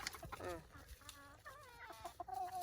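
Chickens clucking on a farm, several birds giving short, varied clucks and drawn-out calls close by, fairly quiet overall with some faint background noise.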